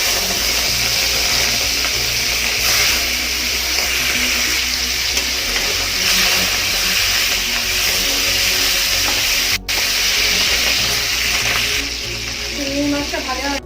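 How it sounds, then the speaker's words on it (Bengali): Prawns coated in salt and turmeric fry in hot oil in a kadai, giving a loud, steady sizzle that runs unbroken throughout. "সেটা এবার কড়াইতে দিয়ে ভেজে নেব"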